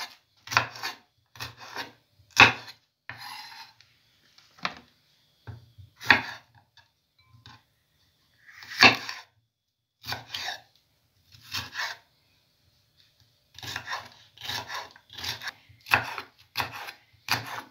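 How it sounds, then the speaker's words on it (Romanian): Cherry tomatoes cut in half with a knife on a board for veal goulash: a near, irregular run of sharp cutting thuds and brief rasping slices, some in quick clusters, separated by quiet pauses. "Roșioarele le tai doar în două,"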